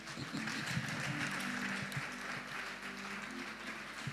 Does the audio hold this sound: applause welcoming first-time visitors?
yes